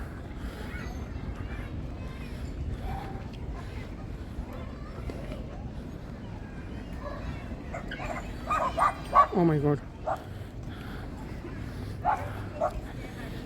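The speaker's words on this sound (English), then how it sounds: "I think baby dog, nothing to worry about." A small dog barks and yips in short bursts near a marina, at moderate distance, with people talking and a low ambient rumble underneath.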